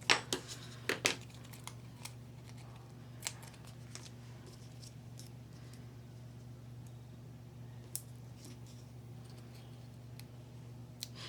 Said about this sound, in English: Now I will need to cut these in half.